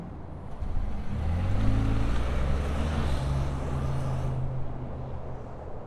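A 2024 Ford F-150 Lariat PowerBoost hybrid truck starts and pulls away, a low, steady engine rumble with a slight rise in pitch as it moves, heard from nearby and continuous without talk.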